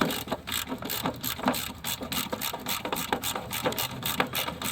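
A hand ratchet clicks rapidly while loosening a bolt on the alternator idler of a 2016-2019 Kia Soul 2.0L, a close, steady series of sharp metallic clicks.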